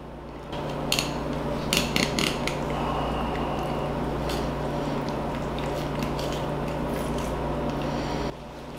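A knife working through a lake trout during filleting, a steady scraping, rasping drag with a few brief clicks and taps near the start, close and alone.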